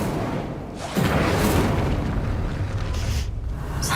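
An Incendio fire spell goes off in the video game Hogwarts Legacy with a sudden deep whoosh and boom. A roaring burst of flame follows and then fades, with no voices.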